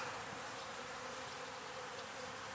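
Honey bees buzz densely and steadily around an open hive during a frame inspection, a faint, continuous swarm hum with no voices over it.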